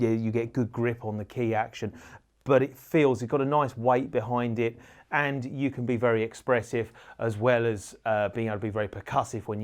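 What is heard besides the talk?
No distinct noise like a dog, phone or traffic.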